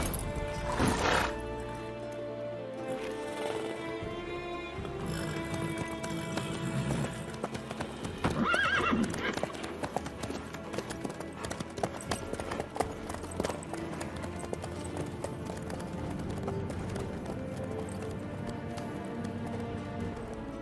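A horse in The Witcher 3 video game gallops with steady clip-clopping hooves and lets out a loud whinny partway through, under game music and ambience, with no voices.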